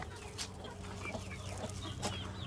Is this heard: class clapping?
no